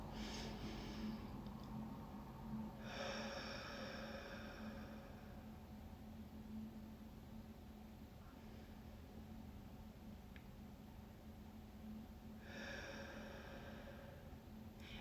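Quiet, slow deep breaths of a breathing exercise repeat at long intervals, each a soft airy rush against a faint steady background hum.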